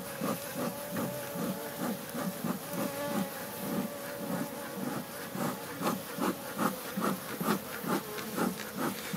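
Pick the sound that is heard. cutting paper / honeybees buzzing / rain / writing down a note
honeybees buzzing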